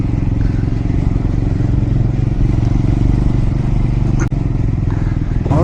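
Triumph Scrambler 400 X motorcycle engine running steadily through city traffic, a loud continuous low thrumming throb that holds even for several seconds, cut by one brief sharp click near the end.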